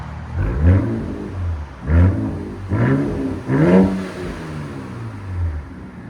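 2025 RAM 1500 pickup with a 3.0L twin-turbo Hurricane inline-six and straight pipes, loud and close, revved in four or five rising blips that fall back to a rumbling idle between, with no talking.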